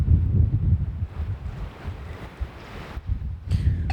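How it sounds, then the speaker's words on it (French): Wind gusting against the microphone outdoors in Canada at evening, a rough, rumbling roar that swells and eases over several seconds, with a sharper burst near the end. "Le vent s'est un peu calmé."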